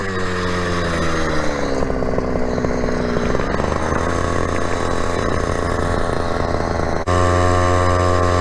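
A Go-Ped GTR GP460 scooter's small two-stroke engine runs steadily and loud and close, its buzzing pitch sagging and climbing with light throttle, then jumping to a higher, harder rev near the end.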